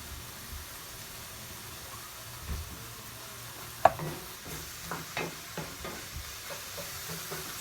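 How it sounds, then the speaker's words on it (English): Vegetables sauté in a pan on medium heat, a soft low hiss with a sharp clink midway and intermittent stirring scrapes toward the end. "So I usually saute my vegetables till they're translucent or nice and soft."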